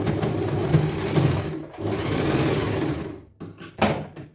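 An electric sewing machine runs in steady bursts stitching lehenga jacket fabric, a close whirring drone that stops briefly, resumes, then ends in short stop-start clatter.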